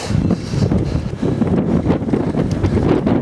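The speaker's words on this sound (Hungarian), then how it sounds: "Erős a szél." Strong wind buffets the microphone on a bicycle tour over Alpine passes, a loud continuous low roar filling the whole stretch without any talk.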